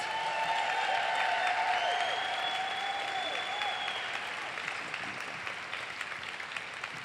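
A conference audience at an opening session applauds the International Board of Directors, a sustained wash of clapping from many hands that stays loud at first and then gradually thins, with faint background music tones.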